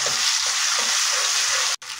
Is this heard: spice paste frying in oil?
yes